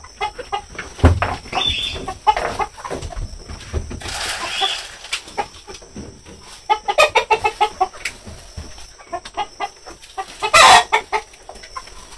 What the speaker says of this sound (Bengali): এখন এই যে লিখনের বাবা মুরগিরে খাবার দিব।